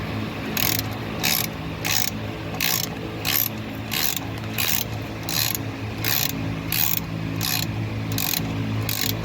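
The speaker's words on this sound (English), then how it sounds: "Now we'll get a socket, snug that up." A socket wrench ratchets in quick, repeated clicking bursts while snugging up a brake bolt on a GMC, each short burst of clicks evenly spaced over several seconds.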